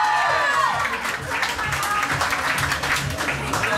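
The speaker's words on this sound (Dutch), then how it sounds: "En zeker ook een applaus voor haar tegenstander, die voor het eerst hier staat te brengen." Audience applause at a talent-day competition bout after the winner is announced, steady dense clapping from a crowd filling the whole stretch, with some cheering mixed in and no clear voice on top.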